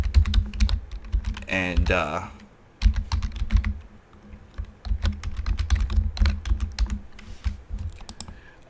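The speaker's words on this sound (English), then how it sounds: "you can just type in whatever you want" Rapid clacking of a computer keyboard as plaque text is typed in Kerbal Space Program, running through most of the stretch over a low hum, with a short spoken word and a brief tonal sound near the start.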